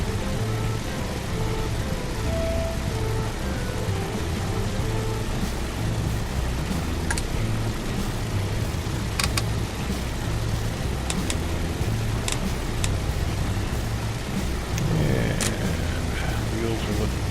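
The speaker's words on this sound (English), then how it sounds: "Engines are running." Steady, dense drone of the piston engines on a PMDG DC-6 airliner in a flight simulator, running continuously at an even level with a few sharp clicks scattered over the top.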